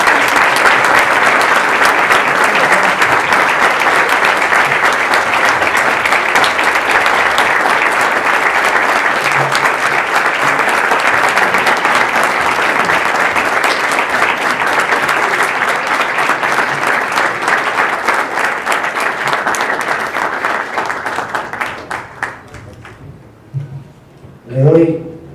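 Sustained applause from an audience at a Costa Rican journalists' day award ceremony, loud and steady for about twenty seconds before thinning out into a few scattered claps at the end.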